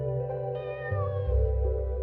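Small white fluffy kitten meowing near a door, a drawn-out rising and falling cry heard close over a steady tonal background hum.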